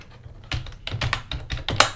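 Keys clatter on a computer keyboard in a short burst of close, crisp taps with uneven rhythm, several keystrokes spread across two seconds.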